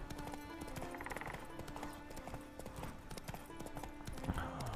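Horse hooves clip-clop steadily at a riding pace in The Witcher 3, a continuous rhythmic stream of hoofbeats over ambient game sound with occasional whinnies, fairly faint overall.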